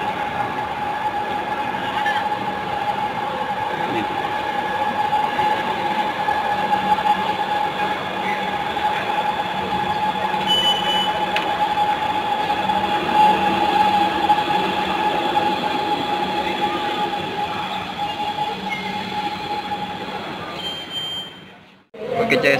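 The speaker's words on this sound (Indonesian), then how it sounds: "jadi ini dia sekarang LRT-nya udah datang nih." An LRT light rail train pulls into a station in Palembang, giving a steady, loud rumble and whine with a sustained tone throughout, then cutting off sharply near the end.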